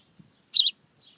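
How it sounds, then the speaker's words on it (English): A small bird gives a single short, bright chirp, close and clear against an otherwise quiet background, with a fainter peep trailing after it. "Now eventually this little bird made it out."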